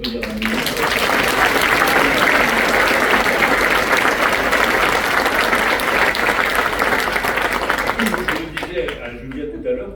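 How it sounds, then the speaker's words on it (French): An audience at a speech honouring customs athletes, including world championship biathletes, breaks into loud, dense, sustained applause that fills the room for about eight seconds, then fades as a voice returns. "Je pense qu'on peut vous applaudir"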